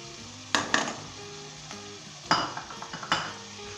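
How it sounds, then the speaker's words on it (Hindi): Beef keema with spices and ground coconut is stir-fried in a pan, a low sizzle punctuated by several distinct scraping and clanking strokes of the spoon, close and without speech. "और अच्छे तरीके से इसे हम मिक्स करेंगे और भूनेंगे 5 से 10 मिनट तक"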